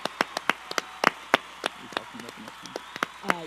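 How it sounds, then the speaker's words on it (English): Scattered hand claps from a small audience at a university award event, sharp separate claps at an uneven pace that stay fairly quiet, with faint voices in the background. "big round of applause"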